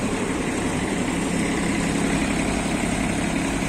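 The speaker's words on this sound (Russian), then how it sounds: "Такой вот мини-трактор Исеки Сиал 5 в городе Иркутске." An Iseki Sial TF-5 mini tractor engine idles steadily with a low, even chugging rumble that holds constant throughout.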